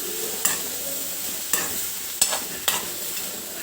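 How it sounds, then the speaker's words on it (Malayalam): Jackfruit seeds fry in a pan under a continuous sizzle, with four distinct scraping strokes of a spoon stirring them at uneven intervals, close and clear. "ഇനി നമുക്കിത് നല്ലതുപോലെ മിക്സ് ചെയ്യാം"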